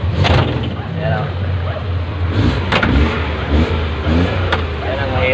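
A car with a low battery struggles as its engine cranks and revs in uneven bursts, rumbling loudly throughout while people talk over it.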